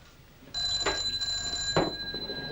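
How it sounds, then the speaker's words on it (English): An old-style telephone bell rings in a comedy film scene, starting abruptly with a steady bright tone and two louder rattling bursts of ringing, heard fairly close with no talk over it. "You're wanted on the blower, Sergeant Who"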